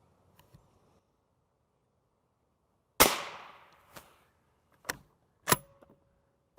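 Gunshots fired at a Level III+ UHWMPE ballistic body-armor plate at a range: one sharp, loud report followed by several separate, fainter cracks and impacts spaced about a second apart, with near silence between them.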